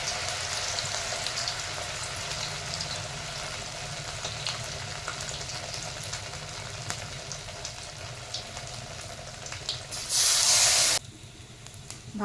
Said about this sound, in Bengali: চালের গুঁড়োতে এইভাবে ভেজে নেব